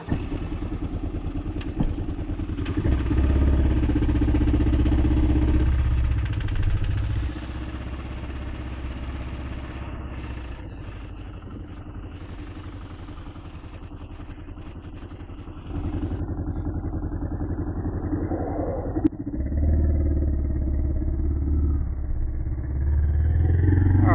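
A Kawasaki KLR 650 motorcycle engine runs while riding, a loud continuous single-cylinder drone that rises and falls as the throttle changes, with a quieter stretch midway and wind rush throughout.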